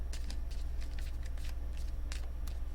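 Tarot cards are riffled in a few quick, soft bursts close to the mic over a low steady electrical hum, with no voice.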